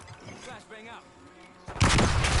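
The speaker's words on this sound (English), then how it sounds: "Flashbang out." A flashbang grenade detonates in the Warzone video game: after a stretch of low game noise and faint voice, a sudden loud, harsh blast erupts near the end and rings on to the end.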